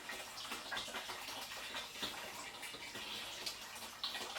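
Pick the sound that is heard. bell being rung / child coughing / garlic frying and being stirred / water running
water running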